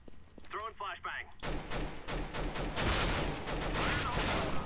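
Rapid P90 submachine gun fire in the competitive Counter-Strike: Global Offensive match on the map Train, loud sustained bursts following a short muffled stretch at the start.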